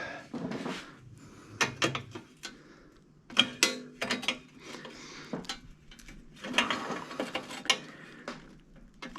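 Tightening a part on a 1971 Schwinn Breeze bicycle: a run of irregular close metallic clicks, taps and ratcheting knocks in scattered bursts, moderately loud in a quiet room with faint murmuring voices between them.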